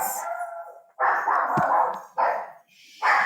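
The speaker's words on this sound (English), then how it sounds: "Hear the dogs?" Several dogs bark and howl in long bursts separated by short pauses, loud and fairly close, with one sharp yip in the middle.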